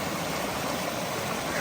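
A small waterfall on an Appalachian Trail section near Cosby Knob, giving a steady, close rush of splashing water with no breaks.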